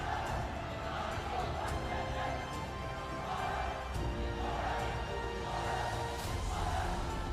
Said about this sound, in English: much to the jubilation of the Royal College crowd